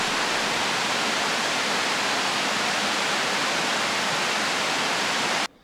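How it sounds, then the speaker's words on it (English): A steady, dense roar of rushing waterfall water fills the air without a break, then cuts off abruptly at the end, near Snowmass Lake. "just over the ridge is a waterfall to drown out all the noise of the people"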